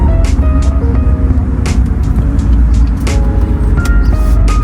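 A manual stick-shift car pulls away slowly from a stop and drives on, its engine a steady low rumble with road noise, heard close and fairly loud, with brief higher-pitched bursts over the drone.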